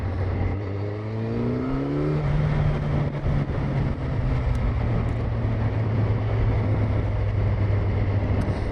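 A 2012 Yamaha FZ8 50th anniversary four-cylinder motorcycle engine while riding: a loud, smooth, steady hum that climbs in pitch early on, then holds an even drone with wind noise.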